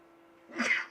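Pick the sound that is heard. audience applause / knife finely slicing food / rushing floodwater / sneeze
sneeze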